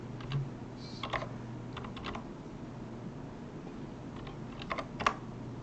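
Typing an SSH command on a computer keyboard, a few scattered clusters of quiet key clicks with pauses between, over a low steady hum, no talking.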